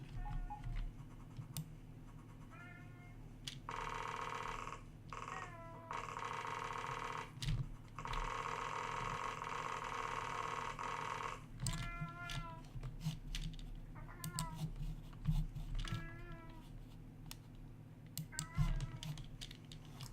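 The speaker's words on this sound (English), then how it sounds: "That annoying noise is our cat." A cat meows repeatedly in short, wavering cries, close by, over a low hum and occasional tapping and scratching noises.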